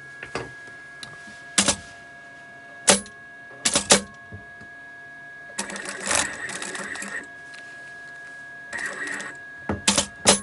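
A sewing machine stitches a sleeve seam on a rag doll's two-tone dress, running in short close bursts, some brief and some several seconds long, separated by pauses.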